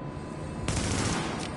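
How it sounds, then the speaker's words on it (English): Player's own weapon firing in The Division, a burst of gunfire starting partway through and continuing as a dense, close rattle with no talk over it. "It's not a guy shooting, it's me shooting"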